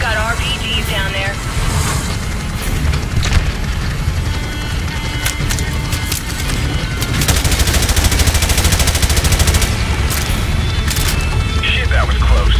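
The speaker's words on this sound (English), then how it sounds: "Taking fire here." Heavy gunfire from Call of Duty Modern Warfare Remastered: continuous automatic bursts and sharp shots crackle over a loud engine drone, with radio-style voices talking throughout.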